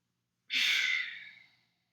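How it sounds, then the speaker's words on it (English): A single breath taken during a Kundalini yoga lung-cleansing exercise, close and airy, rising sharply then fading over about a second in an otherwise silent room. "Inhale again."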